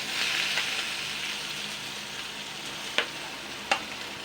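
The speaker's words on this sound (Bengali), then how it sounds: "কড়াইতে পেঁয়াজ কুচানোটা দিয়ে দেবো।" Chopped onion fries in hot oil in a wok, a steady close sizzle with two sharp clinks of stirring near the end.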